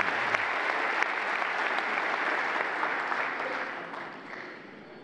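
A large crowd at a Galatasaray football club gathering breaks into sustained applause, a dense and steady clapping that fades slightly toward the end.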